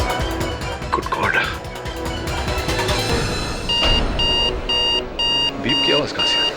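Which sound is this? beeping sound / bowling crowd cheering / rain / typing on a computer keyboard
beeping sound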